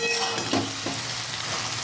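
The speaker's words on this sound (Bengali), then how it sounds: "দেখুন ভাজাটা একদম প্রায় কমপ্লিট হয়ে গেছে এরকমভাবে ভেজে নেবেন" Taro stolons (kochur loti) fry in a pan, giving a steady close sizzle with brief scraping stirs near the middle and no talking.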